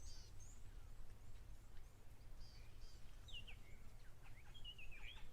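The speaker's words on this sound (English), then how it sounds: "I can hear some grey go-away birds making an alarm noise in the background." Grey go-away birds give scattered alarm calls at a waterhole, thin sharp cries sounding at a distance over a steady low rumble of wind and ambience, growing more frequent toward the end.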